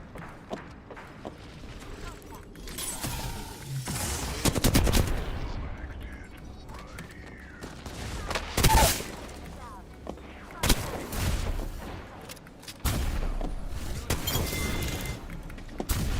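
Video game gunfire: scattered single shots and short automatic bursts, some near and sharp, others more distant, spread over a noisy battlefield backdrop with occasional heavier booms.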